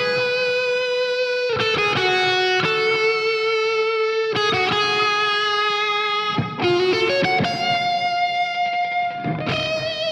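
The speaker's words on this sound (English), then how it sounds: "Let's hear the violin part." A sustained, bowed-sounding harmony line from a song, moving between long held notes with a few quick changes, with a processed, slightly distorted tone and no voices.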